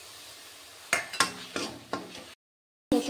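Ginger, chilli and ground cumin paste mixed with water, stirred and fried in a pan, giving a few close scraping stirs over a low sizzle, then a brief gap before another stroke.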